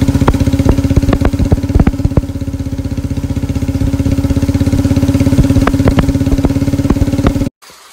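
A motorcycle ridden toward a Naga village west of Kohima chugs loudly with a steady, rapid engine pulse close by, then cuts off abruptly near the end.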